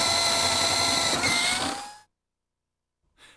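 A DeWalt 14.4-volt cordless swivel head shear cuts through stacked sheet metal, giving a loud, steady whirring, grinding rasp for about two seconds before it stops abruptly. Near silence follows, then a faint short noise at the end.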